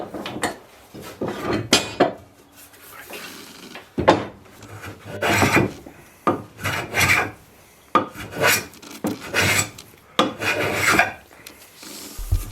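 Hand-flattening a wooden knife block with a rasp or file, a series of rough scraping strokes in irregular bursts of one to two seconds, close and fairly loud, with pauses between them.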